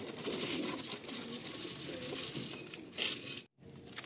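Cooing of high-flying pigeons kept for sale in a loft, soft low murmuring coos mixed with rustling and fluttering, faint and close, ending in a short gap.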